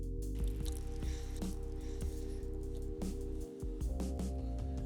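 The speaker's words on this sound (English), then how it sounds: "And the juice of half lemon." Half a lemon is squeezed by hand over baking ingredients, giving soft wet squishes and drips in a quiet, close kitchen setting without speech.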